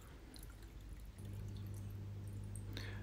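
Water from an RO unit fills a saltwater mixing tank for a reef aquarium, a faint steady pouring hiss with a low hum underneath, and no voices.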